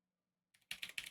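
Computer keyboard being typed on at close range, a brief burst of quick, crisp key clicks starting after a moment of silence, with no talking.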